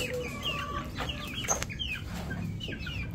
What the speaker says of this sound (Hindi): चलो भी मुर्गियों